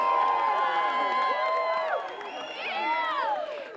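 A large, excited audience at a Dancing with the Stars event cheers and shouts continuously, with whoops and screams layered into a loud, dense roar that dips briefly and then swells again.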